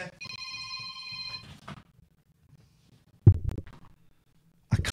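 A mobile phone rings with a steady electronic tone for over a second, then goes quiet, followed by a couple of bumps and rustles as it is handled.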